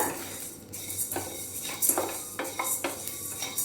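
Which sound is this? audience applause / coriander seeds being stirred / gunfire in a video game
coriander seeds being stirred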